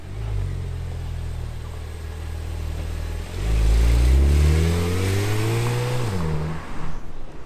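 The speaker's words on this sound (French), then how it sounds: "Petite Turbo S qui passe ici en 991." A Porsche 911 Turbo S of the 991 generation drives past, its engine rumbling steadily and then swelling louder with a rising rev as it passes close by before fading slightly.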